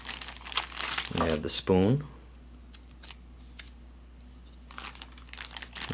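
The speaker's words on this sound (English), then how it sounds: "Here's another Ziploc bag" A Ziploc bag from a Lithuanian combat ration crinkles and rustles in short bursts close by, between brief spoken words.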